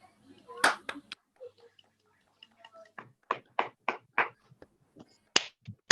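Audience members unmute and clap together for a Toastmaster at an online Toastmasters meeting, a scattered run of hand claps and slaps, moderately close and fairly quiet, with some voices mixed in.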